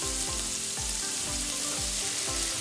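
Potatoes frying in hot oil for coral fish paturi: a loud, unbroken sizzle fills the clip, joined by regular low thuds about every half second, heard close up with no talking.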